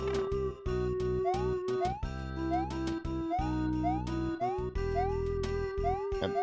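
A cartoonish cat meows in the video game Luigi's Misadventures, repeated rising meows over looping game music and sound effects, loud and up front.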